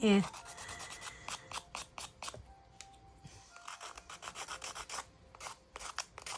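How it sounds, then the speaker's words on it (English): A nail file rasps back and forth over the rough edges of UV resin earrings with dried flowers, in a quick run of short, close scraping strokes with brief pauses between bursts. "I find it just as easy to run the nail file"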